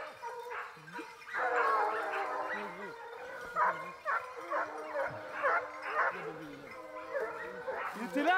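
Hunting dogs during a driven hunt in France bark, yip and whimper continuously at close to moderate distance, an excited overlapping chorus with irregular yelps throughout.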